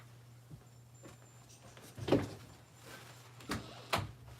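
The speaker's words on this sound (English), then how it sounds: "I hear my husband coming home, so I just wanted to shut my door." A household door pulled shut in a quiet room, with a soft thud and then two sharper knocks or latch clicks close together near the end, over a steady low hum.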